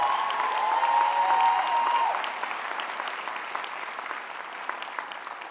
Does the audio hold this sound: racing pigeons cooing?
no